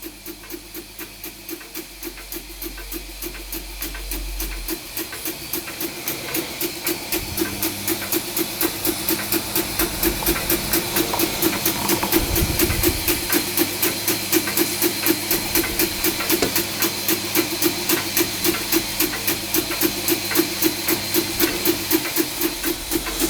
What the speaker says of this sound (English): But it's running under its own steam.